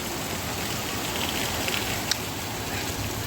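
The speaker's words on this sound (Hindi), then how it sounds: "कितना भारी बारिश और मौसम वाव।" Heavy monsoon rain pours steadily on a Sawan morning, a dense, even hiss that fills the whole stretch with no pauses and only a couple of brief drip-like ticks standing out near the end.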